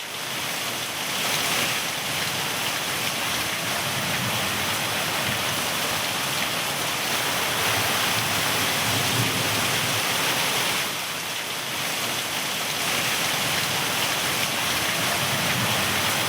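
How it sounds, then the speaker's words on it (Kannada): Torrential heavy rain pouring down in Bengaluru, a dense, continuous roar of downpour hitting surfaces, loud and unbroken for the whole stretch with no voices. "ಬೆಂಗಳೂರಿನಲ್ಲಿ ಸುರಿದಂಥ ಧಾರಾಕಾರ ಮಳೆ"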